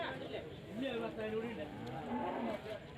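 Several bulls low and moo in a busy cattle market in Payyanad, Kerala, deep drawn-out calls overlapping with faint crowd murmur in the background.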